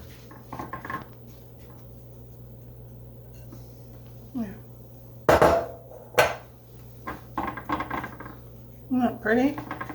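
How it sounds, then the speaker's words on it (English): A mixing bowl holding rhubarb, sugar and orange gets scraped out in a kitchen, with soft scraping and a few sharp clinks and knocks of a utensil against the bowl amid quiet background noise. "Let me clean this bowl out."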